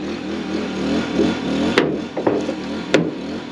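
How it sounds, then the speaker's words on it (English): A hydraulic Jaws of Life rescue tool cuts into a car hood with a steady mechanical drone underneath, broken by three sharp metallic cracks and snaps as the blades bite through the sheet metal. "Let's do a little test cut on this hood."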